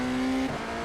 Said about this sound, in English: Wheels locking slightly.